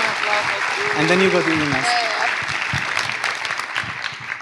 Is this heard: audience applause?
yes